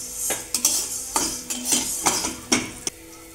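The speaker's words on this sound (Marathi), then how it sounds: "हिरवे मूग भाजूया। अशा प्रकारे मूग भाजून घ्यायचे।" Green mung beans roast in a dry pan while a spoon stirs them, giving a series of close metallic scrapes and clinks at an uneven rhythm with a light rattle between strokes.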